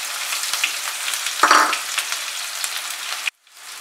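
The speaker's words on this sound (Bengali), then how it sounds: "তেলটা গরম হলে এর মধ্যে আমি কুচানো পেঁয়াজটা প্রথমে দিচ্ছি" Two medium chopped onions fry in hot oil in a wok, giving a steady, close crackling sizzle with a brief louder burst midway before the sound cuts off sharply near the end. No voices.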